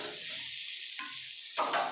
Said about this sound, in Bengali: এখানে আমার আলু আর কুমড়ো ভাজা হয়ে গেছে